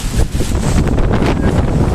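Strong storm wind roaring in Kerala, a constant heavy rush that buffets the microphone, loud and close throughout with no pause.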